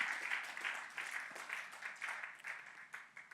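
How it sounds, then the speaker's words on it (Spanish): Church congregation applauding, a brief burst of steady hand clapping that sounds soft and somewhat distant in a large room. "Un aplauso, Señor."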